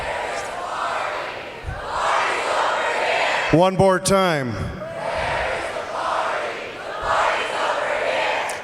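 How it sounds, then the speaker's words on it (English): A high school graduating class in a large ceremony crowd shouts a loud group cheer. A speaker's voice and a brief whistle or horn-like tone cut through the middle. "That's winning the party cheer."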